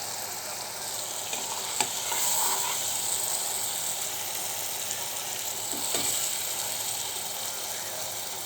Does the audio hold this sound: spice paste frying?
yes